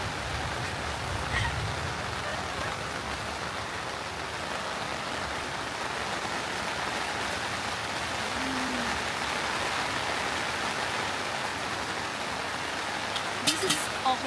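Steady rain falls at a mountain campsite in Tanay, Rizal, a constant broad hiss of drops on surfaces throughout, with a few faint louder taps near the end.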